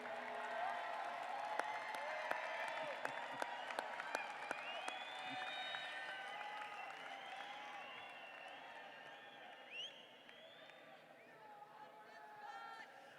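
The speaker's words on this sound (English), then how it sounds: "give them a round of applause for all that they have done to support you" At a 2021 university commencement ceremony, a crowd claps for graduates' families and friends, with scattered claps early on fading into a busy murmur of voices and calls across the large gathering.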